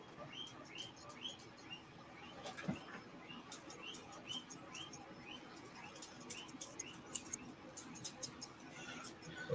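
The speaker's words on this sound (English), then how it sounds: "That would be a guinea pig" Repeated high-pitched squeaks in quick, steady series, fairly faint, with quiet speech in the background.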